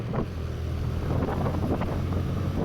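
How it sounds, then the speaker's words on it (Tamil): A TVS Raider 125 motorcycle is ridden in power mode. A steady engine drone sits under heavy wind buffeting on the microphone, with no voices. "இப்போ பவர் மோடில் வண்டி எப்படி போகுதுன்னு பார்ப்போம்"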